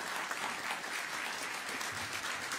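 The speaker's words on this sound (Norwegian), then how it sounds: "Men applaus!" An audience at a talk on climate and nature crises applauds steadily, a dense even wash of clapping from a seated crowd, sustained and moderately loud for the whole stretch.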